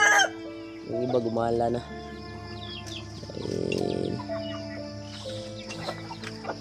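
Chickens clucking near newly hatched chicks in a backyard coop, with close, repeated clucks and short calls, a rooster-like call among them, while someone talks over the birds.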